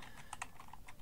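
Brief burst of keystrokes on a computer keyboard while writing C++ code, a few quick clicks close and fairly quiet, with no talking.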